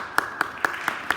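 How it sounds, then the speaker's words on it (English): Applause at a school celebration assembly: five evenly spaced, crisp claps with a slight ringing tone, sounding like a few hands clapping in time. "So give yourselves a round of applause"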